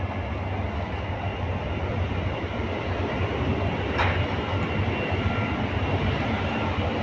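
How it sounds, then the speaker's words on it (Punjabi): Inside a large Paris rail terminus, Gare Montparnasse, a steady, loud rumbling hum fills the hall without a break. A brief high squeal cuts through near the middle. "ਜਿਹੜਾ ਵੱਡਾ ਟ੍ਰੇਨ ਸਟੇਸ਼ਨ ਹੈ ਮੋਪਰ ਨਾਮ ਦਾ ਜਿਹਨੂੰ ਕਹਿੰਦੇ ਗਾਰ ਲਾਗਾ"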